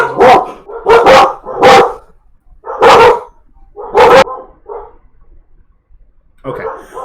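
Several dogs bark in loud, close bursts, five or six sharp barks spaced irregularly with short gaps, with a softer bark or yip near the end.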